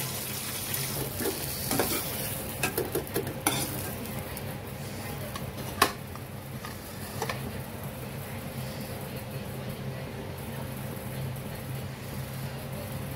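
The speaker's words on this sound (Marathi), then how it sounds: "बघा ह्याला वर खाली करून घ्यायचं, मध्ये मध्ये थोडं भाजून घ्यायचं चांगलं" Green chillies being stirred and roasted in a hot kadhai, with a steady low sizzle and scattered scraping clicks of a spoon against the pan, moderately close.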